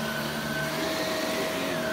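Stick vacuum cleaner running, a steady loud whine with a constant hum and motor tones, uninterrupted throughout.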